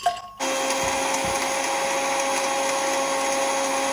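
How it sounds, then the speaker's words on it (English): An electric blender grinds spices for goat pepper soup, starting after a brief pause and then holding a steady, high motor whine. "So once the meat is cooking, add all your spices to your blender"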